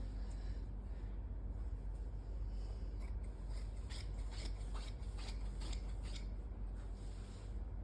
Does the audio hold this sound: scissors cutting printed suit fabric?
yes